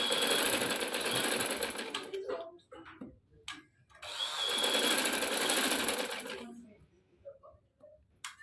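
A sewing machine stitches a wool thread winter shalwar, whirring in two long bursts with a pause and a short tail of clicks and handling between them.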